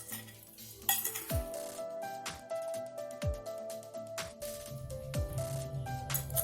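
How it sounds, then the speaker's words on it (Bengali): A spoon stirs fruit chaat with honey in a bowl, giving repeated clinks and scrapes of cutlery against the dish at close range, with no talking. "এবার সব উপকরণ সহ ফলগুলি আমি মিশিয়ে নেব।"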